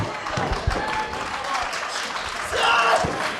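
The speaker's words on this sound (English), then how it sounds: "Crowd here in Ludlow loving everything they're seeing." Crowd at a live independent wrestling show in Ludlow cheering and clapping steadily during a match, a busy roar of voices and scattered claps with a louder swell near the end.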